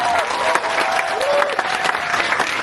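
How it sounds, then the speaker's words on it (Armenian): Loud, continuous applause from a large audience at a film screening event, a dense clatter of clapping with a few voices calling out over it. "որ ծափարությունները բարձր լինի"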